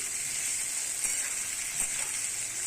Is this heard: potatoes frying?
yes